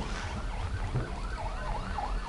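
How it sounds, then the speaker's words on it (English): A police car siren wails outside a house, its rising and falling tone steady and fairly close, with low vehicle rumble underneath and no talking. "I hear a cop car!"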